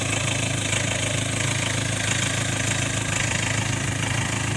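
A 2.2 Ford Transit engine with an idle fault runs steadily nearby, its idle rising and falling slightly, with no talk.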